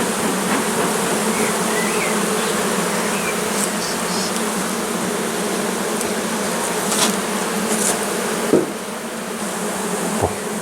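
Honeybees buzz steadily and densely at close range as a nucleus colony is transferred from a small hive box into a full hive, with a few brief knocks of the wooden frames partway through.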